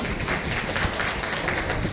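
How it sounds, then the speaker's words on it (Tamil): Audience applause at a Tamil award ceremony, a steady dense wash of many hands clapping together, fairly loud and sustained throughout with no talk over it. "அதுக்காக ஒரு கைத்தட்டல் கொடுத்துடலாம்"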